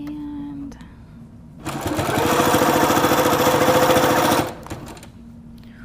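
A Little Rebel sewing machine runs in one sustained burst of rapid stitching, about three seconds, while satin binding is sewn onto a baby blanket. It is loud and close, with quieter handling noise and talk before and after.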